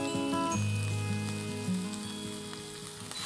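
About a quarter kilo of chopped cabbage with two onions and salt cooks in a pan, giving a soft, even sizzle with a low tonal hum underneath, no voices.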